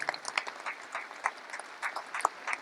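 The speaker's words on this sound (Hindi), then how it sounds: "सो इनके लिए भी बहुत सारी तालियां।" Scattered applause from an audience at a 20th anniversary celebration in Talkatora Stadium, with uneven bursts of clapping that swell and fade over a low murmur of the crowd.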